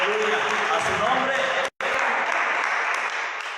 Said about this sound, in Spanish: Denle un aplauso a Cristo, al Rey de Reyes, al Señor de Señores.